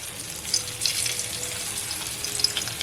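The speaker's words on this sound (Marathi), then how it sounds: "तेल तापलंय लसूण घालते" Garlic fries in hot oil in a kitchen pan, crackling with a dense, close sizzle and scattered pops, steady throughout with no talk.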